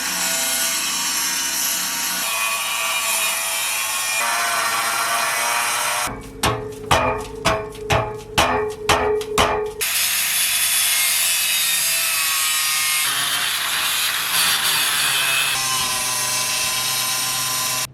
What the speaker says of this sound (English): It's literally just take this grinder and just remove all of those parts